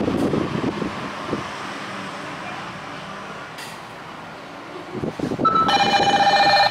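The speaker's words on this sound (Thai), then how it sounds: "โทรศัพท์จะโทรเข้ามานะครับ" An electronic phone ringtone sets in near the end, a loud sustained tone triggered by an IP security camera's motion alert, after several seconds of low background noise and faint rumble.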